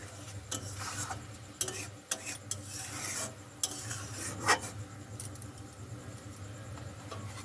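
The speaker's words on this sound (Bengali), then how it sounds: "একটু নেড়ে দিচ্ছি।" Fish curry stirred in a pan, with scattered scraping and clinking of a spoon against the metal over a low, constant simmering hum.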